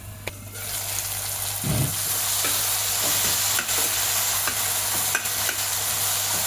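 Potatoes sizzle and fry in a hot pan with a steady, close hiss, broken by a few scraping stirs and light clinks of a utensil.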